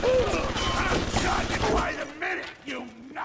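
Rapid bursts of turret gunfire in BioShock, a loud, dense fusillade of shots that dominates the first two seconds, then gives way to scattered game sounds and brief voice noises.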